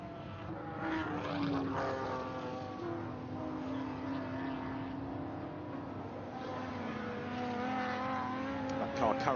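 A race car engine drones past at Goodwood with rising and falling pitch, heard under continuous commentary speech.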